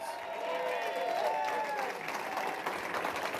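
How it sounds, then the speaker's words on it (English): A crowd at a conservative political rally in White Bear Lake, Minnesota, claps and cheers in sustained applause, dense and steady, heard from within the audience. "Big round of applause."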